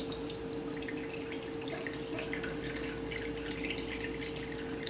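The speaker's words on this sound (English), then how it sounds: "Add the water to the deep pan, carefully around the other insert." Hot water poured into a deep baking pan around an inner flan insert, a soft continuous trickle and splash against a steady low hum, quiet and close.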